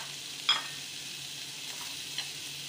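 Chicken for a chilli chicken dish fries in a pan, a soft, even hiss of sizzling broken by a few light stirring clicks, close and without voices.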